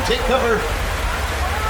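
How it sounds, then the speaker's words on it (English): Sprinkler-made rain and flash flood effect on a Universal Studios tram ride: steady, loud rushing water fills the whole clip while a voice speaks briefly at the start. "The rain is coming from a set of sprinklers above the tram, and the flooding is the result of thousands of gallons of recycled water."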